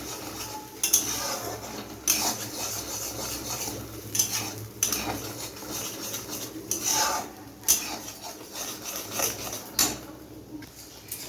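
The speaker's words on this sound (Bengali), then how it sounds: "ভালো করে নাড়িয়ে নেবো" A utensil stirs spice paste in a pan for doi katla, a fish curry. Scraping and clinking strokes recur every couple of seconds over a faint sizzle, close and alone with no talk.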